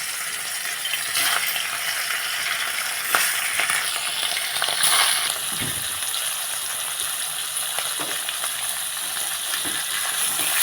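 Hilsa fish lightly frying in hot oil, a steady broadband sizzle that holds through the whole stretch with a few soft spatters and pops, close and even, with no voices.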